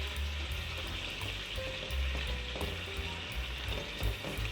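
Minced keema with three medium tomatoes fries steadily in a pan, a continuous close sizzle and crackle with faint bubbling, no voices.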